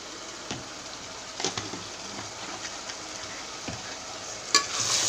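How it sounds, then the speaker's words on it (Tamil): Spiced rice for nila sooru being stirred in a pan, soft scraping and occasional clinks of a spoon over a low sizzle, close and moderately quiet. "கிளறிட்டு"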